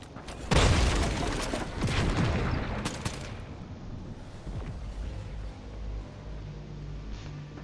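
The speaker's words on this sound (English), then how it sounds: "that explosion was right next to me" Explosion going off right beside the player in Fortnite, a loud close boom with a sharp crack followed by a rumbling tail that slowly fades into quieter game ambience.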